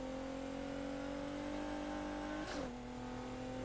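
A race car engine in Need for Speed Heat drones steadily at high revs, then dips and drops in pitch as the car runs onto grass and slows, with no talk over it.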